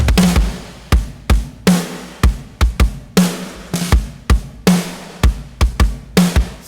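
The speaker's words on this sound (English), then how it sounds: "Just the drum shells sound like this in that same chorus spot." Drum shells alone, kick, snare and toms without cymbals, play a chorus groove in a big country rock production, a steady stream of punchy, evenly spaced hits roughly twice a second, loud and dry with no voices.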